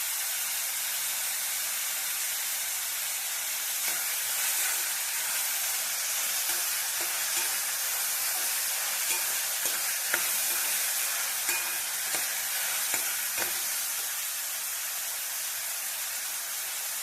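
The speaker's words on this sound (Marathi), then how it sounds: "कांदा आपण चांगला फ्राय करून घेणार आहोत." Onion frying in a pan for an egg ghotala dish, a continuous soft hiss of oil with scattered light scrapes and taps of a spoon stirring, steady and close, no talking.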